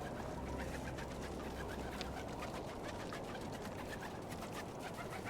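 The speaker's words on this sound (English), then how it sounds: "Wait a minute, there's some pigeons there." Pigeons cooing and fluttering in a video game, a steady dense texture of bird sounds over a continuous low rumble lasting the whole stretch, with no talking.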